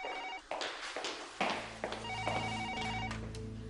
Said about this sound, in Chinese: 不好意思，我先接个电话